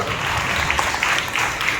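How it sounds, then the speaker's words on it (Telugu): A church congregation clapping hands in praise, a brief dense burst of many hands applauding together, fairly loud and steady throughout. "చప్పట్లు పెట్టి మనం దేవుని పరుస్తాం"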